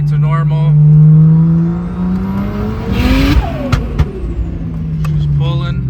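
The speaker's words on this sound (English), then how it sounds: "car's driving, no lights again" A BMW 335xi with a newly replaced head gasket drives on a wet road, its engine note rising and falling through gears. A loud, close pass-by swell sits in the middle, with no speech over it.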